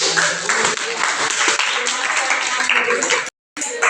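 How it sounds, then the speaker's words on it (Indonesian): Classroom applause from students clapping together for a group, a dense steady patter of many hands close by, ending abruptly in a short silence before resuming. "kita tepuk tangan dulu"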